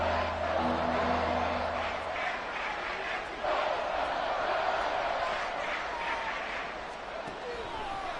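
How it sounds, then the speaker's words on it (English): A football stadium crowd roars steadily through a Lions versus Browns game, a loud continuous wash of cheering and noise with brief thuds, while a broadcast announcer talks over it. "This crowd doing all they can."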